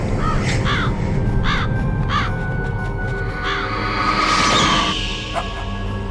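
Ravens give a run of harsh, repeated caws in a Metal Gear Solid game scene, several distinct calls spaced over a steady ambient background with a faint whoosh near the end.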